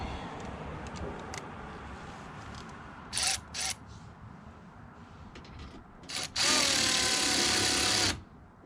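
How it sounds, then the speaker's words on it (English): A power ratchet drives splash guard fasteners on a 2022 Ford Maverick, with two brief bursts near the middle and then a longer, loud whirring run lasting about two seconds, over quieter background handling noise. "trusty dusty power ratchet"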